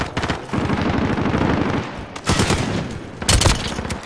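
Rapid bursts of automatic gunfire in Call of Duty Modern Warfare, loud and close, firing in dense volleys with brief pauses between them, no talk over it.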